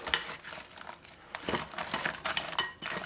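Trinidad and Tobago curry crab ingredients being mixed in a pot: close clinks and scrapes of a utensil against the metal, uneven and intermittent, with soft rustling between strokes.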